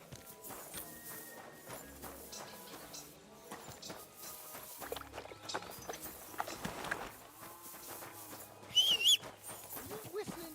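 Horse hooves clip-clop in Kingdom Come: Deliverance 2, a steady walking beat heard under spoken game dialogue, with other medieval ambience and a brief bird-like chirp.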